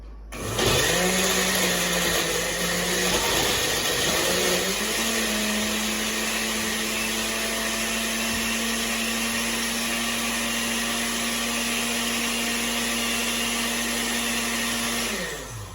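A blender grinds ice into a smoothie with a loud, steady whir. It starts with a lower, uneven churn as the chunks break up, then settles into a higher, constant motor drone that runs through to a cutoff at the end.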